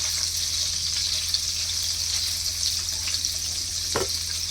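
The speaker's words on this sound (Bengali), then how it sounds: "এপাশে পনিরটা ভাজা হতে থাকবে" Paneer frying lightly in oil with a little ghee in a pan, a continuous bright sizzle held steady and close, with a short clatter near the end and no talk.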